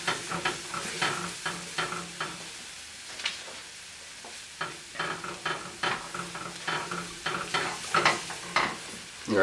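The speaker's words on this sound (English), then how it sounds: "Then we're going to continue to stir it, developing flavor along the way." A spoon stirs Welsh rarebit sauce with Worcestershire and mustard in a pan, giving rhythmic scraping strokes over a gentle sizzle with a short pause midway.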